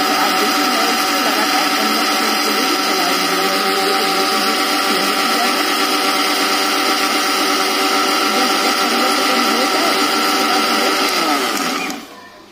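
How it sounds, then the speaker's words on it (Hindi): A kitchen mixer grinder runs with salt inside to sharpen its blades, making a loud, continuous, high whirring roar close by that holds steady for about twelve seconds before winding down. "इसको हमें अब ढक्कन बंद कर करके इसको हमें थोड़ा सा पीस लेना है तो इसे हमें बस पंद्रह मिनट के लिए चलाना है"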